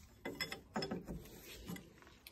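A wrench loosens locking bolts on a Renault tractor during ball joint work, giving close, quick ratcheting clicks in a few short bursts.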